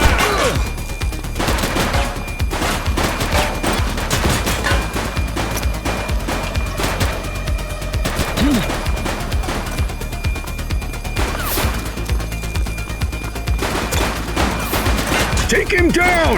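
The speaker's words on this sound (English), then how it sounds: "He's shooting!" A shootout in The Precinct, a police video game, brings dense, rapid gunfire with overlapping bursts and crashes throughout, while voices shout over the shooting.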